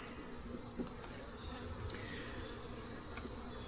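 Honey bees in a weak hive hum with a continuous close buzz, a high steady drone running under the whole stretch with no talking.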